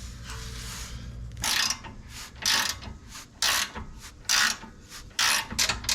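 A ratchet wrench clicks in short bursts while a coilover bolt on a Nissan 370Z suspension is reinstalled and snugged, about six quick ratcheting runs separated by brief pauses, close up with no talk.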